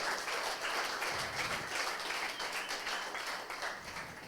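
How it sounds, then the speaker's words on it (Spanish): A church congregation applauds together, a dense, steady wash of many hands clapping at close range that holds for several seconds without letting up. "¿Quién le da un fuerte aplauso a Dios por todo esto?"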